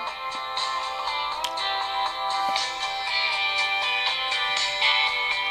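Royalty-free music playing through the small speaker of a HomTom HT7 Pro phone at full volume, thin and bright with sustained tones and little bass, steady throughout.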